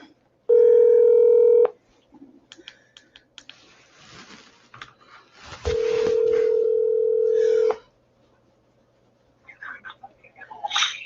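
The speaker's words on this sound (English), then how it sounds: "Let me get old Stan on the phone here" A telephone dial tone sounds briefly, followed by clicks of dialing, then a second longer steady tone, with a few soft clicks and faint talk near the end.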